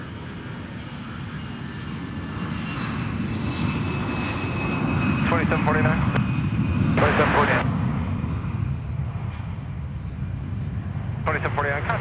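A Delta jet airliner powers up for takeoff from runway 12 right at Minneapolis–St. Paul Airport: a rumbling engine roar swells to a peak midway and then holds, overlaid by several short bursts of crackly radio voices.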